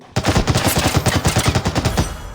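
Rapid automatic gunfire in the shooter game Underworld Gang War, a loud close burst of about fifteen evenly spaced shots fired in quick succession with no talk.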